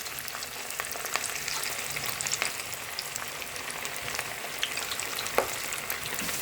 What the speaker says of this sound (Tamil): எண்ணெய் காஞ்சி எடுத்து இப்போ நம்ம போட்டுக்கலாம் பகடா.